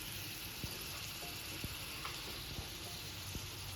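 Dried red chillies fry in hot oil in a heated kadai, giving a steady, faint sizzle with a few soft ticks and pops scattered through it.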